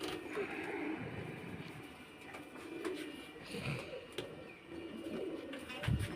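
Pigeons coo after being given grain and water, soft repeated calls against a steady background hum, with light rustling and an occasional louder close coo.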